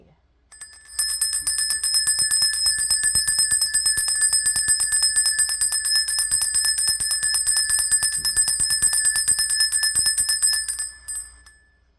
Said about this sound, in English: we get to ring the bell in 1, 2, 3.